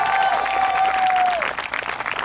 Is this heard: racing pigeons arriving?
no